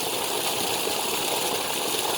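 Water gushes steadily from a tube well in Sabah, Malaysia, a continuous, loud broadband rush with no breaks or voices.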